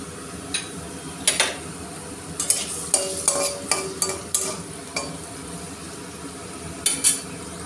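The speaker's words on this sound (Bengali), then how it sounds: "আলুগুলো দিয়ে ভালো করে নেড়ে ছেড়ে একটু লাল হওয়া পর্যন্ত অপেক্ষা করব" Potatoes sizzle in a pan for a katla fish curry with cauliflower, while a spatula scrapes and clinks against the metal in a string of sharp strokes over a low, steady frying hiss.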